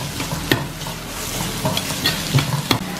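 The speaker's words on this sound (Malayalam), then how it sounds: "സവാള നല്ലോണം നമുക്കൊന്ന് സോർട്ട് ചെയ്ത് കൊടുക്കാം. ഇതിലേക്ക് നമുക്ക് പച്ചമുളക് ചേർത്ത് കൊടുക്കാം." Sliced onions and green chillies stir-fried in a pan for an Indo-Chinese chicken Manchurian, a close, steady sizzle broken by sharp scraping clatters of the spatula against the pan several times, with no talking.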